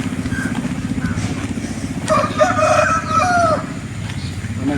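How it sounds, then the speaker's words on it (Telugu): Fighting cocks kept by the hundreds for Sankranti cockfights crow at close range. One long, loud cock-a-doodle-doo rises midway over a steady low engine rumble, with more distant crowing and clucking around it. "కోడి పుంజులు అనేది దగ్గర దగ్గర ఒక 500 దాకా ఉన్నాయండి కోడి పుంజులు"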